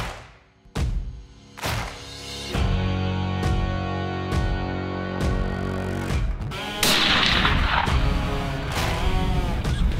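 A hunting rifle fires hand-reloaded 180 grain SST ammunition on a South African plains-game hunt, sighting in; several loud, sharp reports ring out in sequence with echoing tails, spaced a second or two apart.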